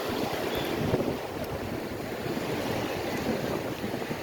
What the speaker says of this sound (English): You got to throw it, the waves are crashing.